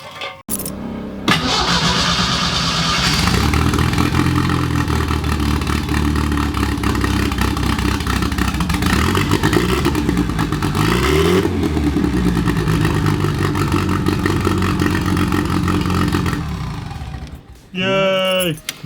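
A turbocharged Datsun 240Z engine cranks, catches and runs loudly up close with a rough, revving drone that rises and falls, then cuts off near the end and briefly restarts.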